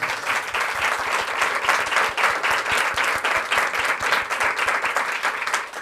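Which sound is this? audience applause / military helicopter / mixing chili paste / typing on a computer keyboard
audience applause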